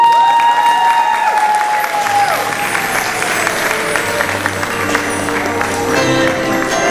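An audience applauds loudly and steadily to welcome beauty-pageant contestants onto the stage at the Miss Grace 2016 contest, with a sustained tone ringing over the clapping before it fades.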